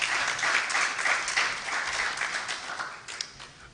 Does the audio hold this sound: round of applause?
yes